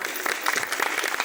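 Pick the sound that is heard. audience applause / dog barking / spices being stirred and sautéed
audience applause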